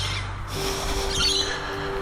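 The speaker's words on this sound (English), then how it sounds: "You can hear the Australian native birds in the background." Australian native birds call in the background, faint squawking and chirping notes over a steady low hum, distant and thin.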